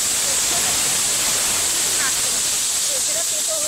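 Mustard paste hits hot oil in a pan while a Bengali river fish curry (rupa patia fish) cooks, giving a steady close broadband sizzle and hiss throughout, with faint brief background sounds.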